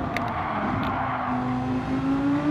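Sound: racing car engine accelerating in Gran Turismo 7 video game

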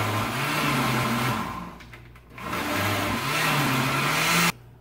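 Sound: blender blending a shake

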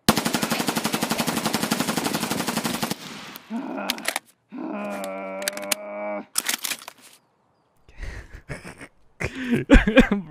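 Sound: gunfire from shots missed in Escape From Tarkov video game

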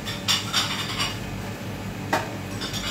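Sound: saucepan being handled on kitchen counter

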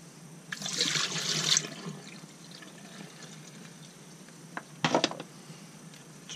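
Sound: dirty water being poured away

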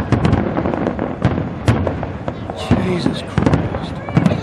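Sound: fireworks at airshow grand finale

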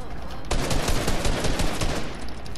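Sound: gunfire from the video game Fortnite

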